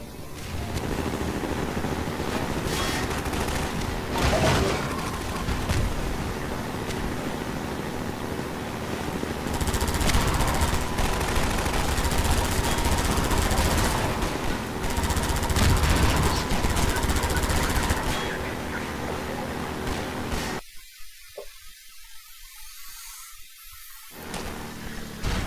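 Dense, continuous automatic weapon fire from Half-Life 2, rattling steadily and loudly for most of the stretch with broadband bursts, then cutting away to a brief quieter patch near the end.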